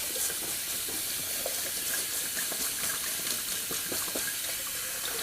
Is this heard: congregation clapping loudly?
no